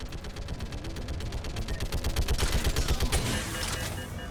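Geth turret gunfire in the video game Mass Effect 3 comes as rapid, loud, sustained bursts of automatic fire, thickening into a denser barrage midway.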